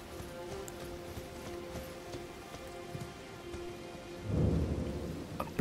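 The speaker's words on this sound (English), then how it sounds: "Now it's raining." Rain falling in a foggy, abandoned village setting in Elden Ring: Shadow of the Erdtree, a soft steady hiss with faint low rumbling, swelling into a heavier gust of rain and thunder near the end.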